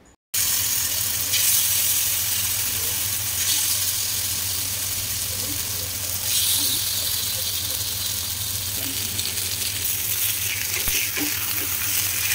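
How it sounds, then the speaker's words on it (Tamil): Marinated fish pieces fry in oil on a dosa pan, giving a loud, continuous sizzle and hiss with a low steady hum underneath and faint bubbling, and no one speaking. "தோசைக்கல்லில் எண்ணெய் போட்டு ஊற வச்சுருக்க மீன் பீஸை எடுத்து போட்டு வறுத்துடலாம்."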